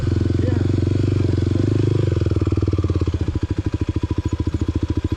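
A dirt motorcycle rides trails at a solar farm, its engine note loud and close, steady at first then breaking into a rapid, pulsing putter as it slows or shifts.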